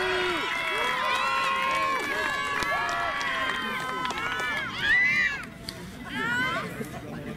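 Gladiator show arena audience at a Roman-style festival shouting together, a dense roar of overlapping voices with rising and falling calls, loud and close, building to a sharper burst before easing.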